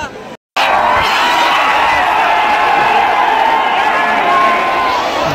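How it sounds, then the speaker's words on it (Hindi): Huge outdoor crowd at the India cricket World Cup victory parade on Marine Drive, a dense continuous roar of cheering, shouting and whooping, loud and close, after a brief dropout at the start. "इधर देखो वो देखो, बहुत ज्यादा गर्दी है भाई"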